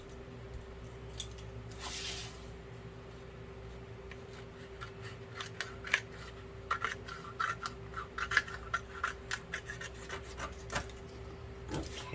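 Scissors snip through paper while it is trimmed evenly for a 6 x 10-1/2 inch gift box. Quiet, closely spaced cuts and rustles come in a steady series, with a brief spoken word.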